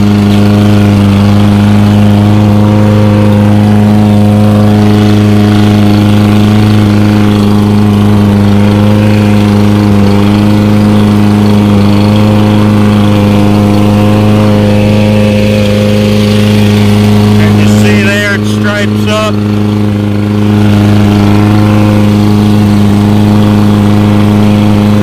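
A lawn mower engine runs steadily and loudly while mowing a lawn, a constant close droning hum with a brief change in tone partway through, and no talking.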